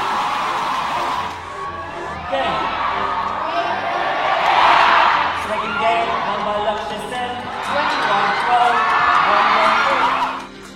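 A sports match crowd cheering on a young Singaporean player, likely badminton star Loh Kian Yew, with loud overlapping shouts and whoops rising and falling in two big surges, dense and sustained with no single voice standing out.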